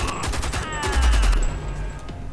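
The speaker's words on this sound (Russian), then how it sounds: "А, черт, пулемет." Rapid machine-gun bursts from the video game Homefront: The Revolution, loud and close, with a steady rattling rhythm of repeated shots running through the whole stretch.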